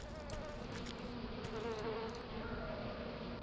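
Bees buzz around apiaries in the video game A Tale in the Desert, a dense, continuous droning hum heard close up and alone, with no talk.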